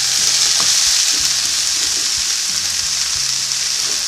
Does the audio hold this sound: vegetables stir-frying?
yes